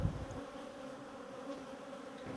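Honey bees buzzing steadily around their hive, a faint, continuous low drone with no voices, holding an even level throughout.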